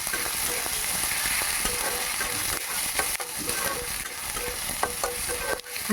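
Chopped onions, garlic and green and red chillies stir-fried over high heat for restaurant-style egg chilli, a busy, steady sizzle broken by frequent close scrapes and clacks of the spatula.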